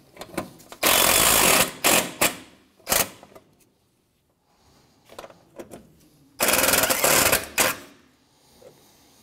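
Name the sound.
tightening bumper bolts on a 2007-2013 Mitsubishi Outlander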